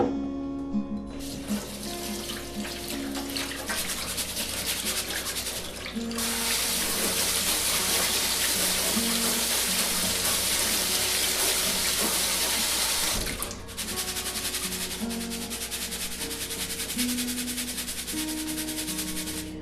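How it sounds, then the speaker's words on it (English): Wild rice is rinsed under running water from a tap, a steady loud rush of flowing water with a short break near the end, heard alone without talking. "now we'll wash the wild rice"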